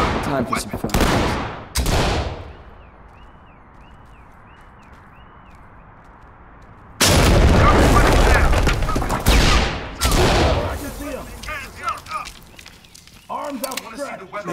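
Flashbang grenades in the Ready or Not police tactical shooter: a sharp bang, a ringing lull, then another loud blast followed by a chaotic burst of noise, with shouting voices over it.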